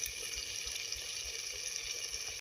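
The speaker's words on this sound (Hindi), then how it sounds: "तो अब इसी टाइम हम इसमें पानी डालेंगे।" Water poured into a pan of bottle gourd (lauki) curry as it cooks: a steady, close hiss of liquid and sizzling that runs evenly throughout, with no voices.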